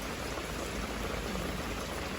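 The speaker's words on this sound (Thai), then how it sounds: "ฝนพี่น้องเอ้ย" Steady, dense rainfall hisses evenly throughout, a soft close wash of drops with no voices, at a rural Thai home on a wet day.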